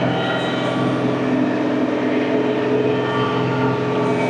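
Tractor running with its PTO engaged at 2,500 RPM, driving an IronCraft 2510 Flexwing mower, giving a loud, steady, close drone with constant engine hum and mechanical whine throughout, with no talking.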